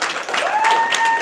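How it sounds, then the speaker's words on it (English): Conference audience at a closing session claps for the team that ran the Wi-Fi, a brief burst of crowd applause and cheering with a whistle-like tone cutting through, fairly loud and continuous. "Clap if you know integrity."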